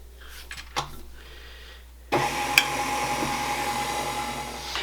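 An electric stand mixer runs on low speed, combining challah dough with added oil: after a quiet start with a few knocks, a steady whirring motor hum kicks in and continues to the end.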